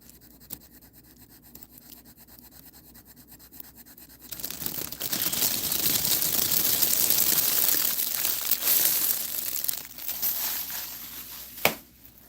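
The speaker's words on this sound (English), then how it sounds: "Some people like the crinkling of the plastic and the Sharpie." Plastic crinkles loudly and close up as a Sharpie marker works across it. A quiet lead-in is followed by several seconds of dense crackling scratches that taper off, ending in one sharp tap, with no voices.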